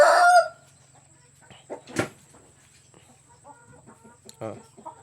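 A rooster crows loudly right at the start, followed by quieter clucks, scattered bird calls and a steady low hum in the background.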